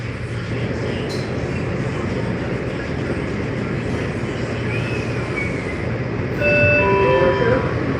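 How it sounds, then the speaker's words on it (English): A red line metro train sits at a station with a loud, steady rumble throughout. The rumble swells slightly near the end as a short chiming tone sounds. "This is a red line train to Cave Road from Morgan"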